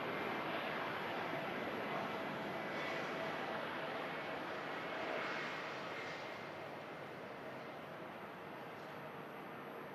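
An Etihad Dreamliner jet departing on runway 23 left gives a steady, broad roar that fills the whole span, distant and fairly loud, gently swelling and easing without any speech.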